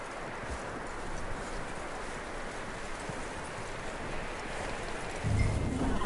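Horse hooves clip-clop in a Red Dead Redemption 2 game scene, a soft rhythmic patter under a steady rain-like hiss, with a heavier thump near the end.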